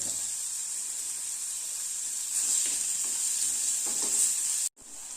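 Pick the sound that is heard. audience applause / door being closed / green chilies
green chilies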